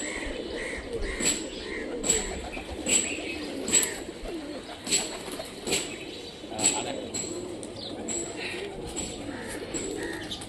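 Old-breed Rajshahi giribaz pigeons coo in a string of soft, evenly spaced throaty pulses over a steady outdoor background, with possible light wing flutters and no talk.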